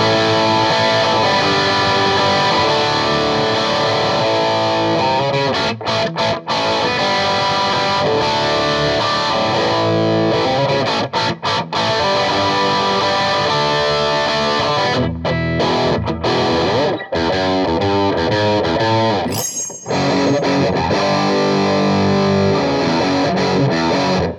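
A PRS SE Special Semi Hollow electric guitar through a screamer overdrive pedal and a Mesa Boogie Mark IV plays loud, sustained distorted chords and riffs, with a couple of brief pauses.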